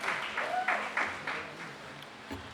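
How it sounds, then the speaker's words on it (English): Audience applause at a school award ceremony, a steady wash of clapping from a crowd that swells and fades slightly over a couple of seconds. "a big round of applause to all the teachers"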